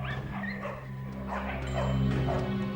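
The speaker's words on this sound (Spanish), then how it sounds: "grandes manadas de perros callejeros viven, comen y se pelean en los vertederos de basura" Stray dogs at a garbage dump bark, yip and whimper in a short close run of calls over a steady low background hum, with faint narration mixed in.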